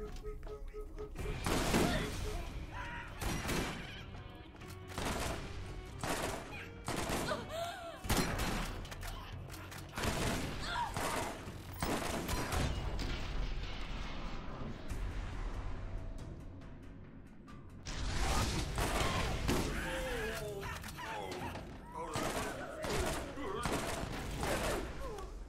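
Gunfire from an enemy in the Borderlands shooter, loud bursts in repeated rapid volleys across the whole stretch, mixed with game effects and an occasional voice underneath.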